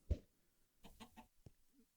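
A chicken in Minecraft's StoneBlock 2 modpack gives a short burst of clucks: one sharp cluck, then a quick run of three or four, and a final one, fairly faint and alone.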